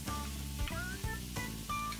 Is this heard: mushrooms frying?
yes